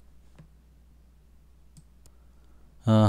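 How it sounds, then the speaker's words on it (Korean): Sparse, crisp mouse clicks, a few separate and close, over near silence. A voice begins speaking at the very end. "등록하시려면 여기 눌러서 클릭하시면 됩니다."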